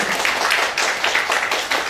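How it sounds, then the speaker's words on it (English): An audience at an MOU signing ceremony breaks into dense, steady applause, many hands clapping close and loud for a couple of seconds. "please give yourself a big round of applause"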